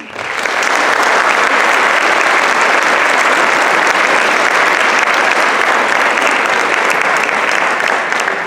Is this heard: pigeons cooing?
no